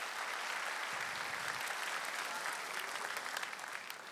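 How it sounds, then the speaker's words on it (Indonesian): A studio audience at a stand-up comedy show applauds continuously, a full, steady wash of clapping from many hands throughout. "Tepuk tangan buat beliau."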